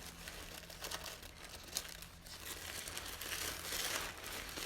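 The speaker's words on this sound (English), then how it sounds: "I like this crinkling sound of this tissue paper" Tissue paper crinkles and rustles softly while being handled to make pom-poms, with scattered crisp crackles and one sharper crunch, close and quiet with no talk.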